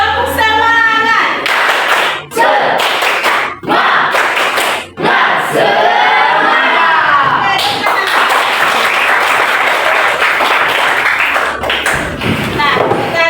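Classroom of children performs a rhythmic spirit clap, loud patterned clapping with thumps and shouted chanting, pausing briefly between rounds before continuing together.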